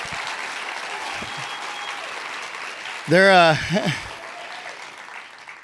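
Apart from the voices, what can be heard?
audience applause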